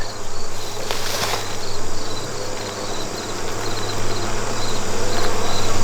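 Bees buzzing steadily around a nuc hive, a dense continuous drone close by with a low hum underneath, no voices.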